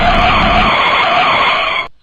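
A taxi skids to a sudden stop, with a loud, sustained tire screech lasting nearly two seconds before it cuts off abruptly.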